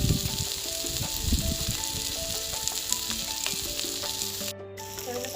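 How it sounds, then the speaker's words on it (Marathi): Onion and green chilies roasting in a pan, a continuous close sizzle and crackle with occasional stirring scrapes, steady in level throughout. "आपला कांदा छान प्रकारे भाजला आहे अशा प्रकारे मिरची पण भाजून घेऊया याच्यामध्ये"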